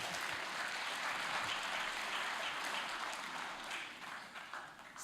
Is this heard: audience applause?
yes